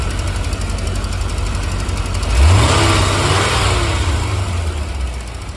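C4 Corvette engine fitted with replacement injectors, idling close by then revving up once around the middle and settling back to a steady idle.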